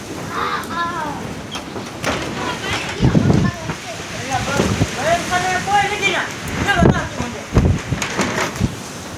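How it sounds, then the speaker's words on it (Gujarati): Heavy rain and gusting wind from a severe windstorm roar steadily in a village while people talk loudly over it, with occasional dull thuds. "આવી ગયું તમારે વાવાઝોડું,"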